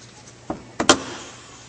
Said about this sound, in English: Go ahead and pop the hood.